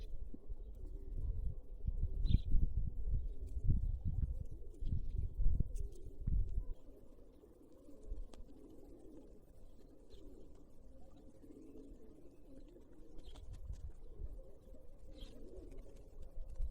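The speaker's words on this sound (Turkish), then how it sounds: "Çok güzel kuş sesleri var şu anda." Soft bird calls and chirps sound sporadically in the distance over a steady low rumble of background noise, with no talking.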